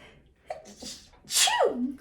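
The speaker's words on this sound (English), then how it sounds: "I might sneeze" A single person's sneeze, close and fairly loud, starting with a short breathy intake and ending in a sharp, explosive burst that trails off.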